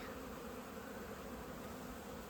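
Honeybees buzzing during their spring cleansing flight at an apiary, a dense, continuous hum of many insects close by with no other sound.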